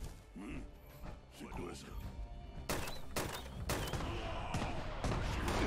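A grenade launcher in the Fallout 76 video game fires several thumping rounds, preceded by mechanical clicks and reloading rattles, the shots growing louder and more frequent toward the end amid game ambience.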